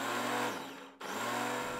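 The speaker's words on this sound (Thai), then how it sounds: "สาลี่1ลูกปอกเปลือกหั่นเป็นชิ้นนะครับปั่นให้ละเอียดเลยครับ" A kitchen blender purées a peeled, cut pear for kimchi paste, a steady motor whir that dips briefly then resumes, moderately quiet and alone.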